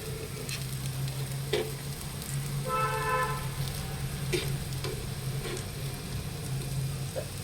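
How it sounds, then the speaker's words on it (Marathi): Semolina-coated potato slices fry in a little oil over low heat, a soft, even sizzle running throughout with occasional light clicks and scrapes of a utensil, steady and close, with no voices. "कुरकुरीत होईपर्यंत फ्राय करून घ्यायचं आहे"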